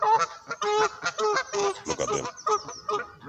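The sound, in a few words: birds making noise, likely geese honking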